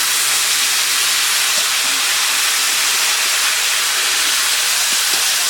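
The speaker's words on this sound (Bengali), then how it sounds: "আলুটা সিদ্ধ হওয়ার জন্য অল্প জল দিয়ে দিচ্ছি।" A loud, continuous, broadband hiss of water hitting spice paste frying in a hot pan while cooking potatoes for a Bengali fish curry, steady and close throughout with no voices.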